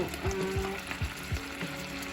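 Canned stewed meat sizzles as it heats in a pan, a steady close-up frying crackle with a few soft stirring knocks spaced through it.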